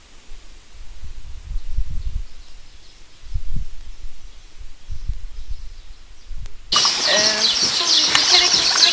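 Dense, bright bird chirping in nature around bungalow houses bursts in suddenly partway through, continuing steadily after a stretch of quiet low rumbles and soft background noise.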